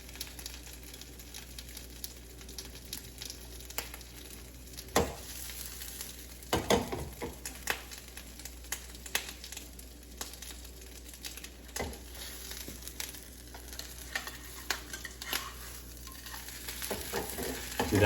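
A croque monsieur fries in a pan, a soft continuous sizzle with occasional louder scrapes and shuffles as the sandwich is moved and flipped, fairly quiet and without talk.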